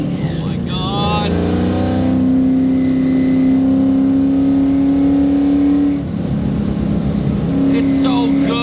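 A 700-horsepower Terminator Cobra engine revs hard and close, holding a loud steady drone, dropping briefly and then climbing again.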